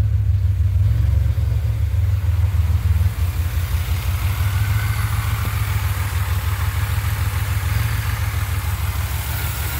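A 2007 Pontiac Grand Prix GT with a cam build and a vacuum leak idles nearby, a loud low throbbing engine note with a lumpy uneven rhythm that dips in level a few seconds in and then holds steady.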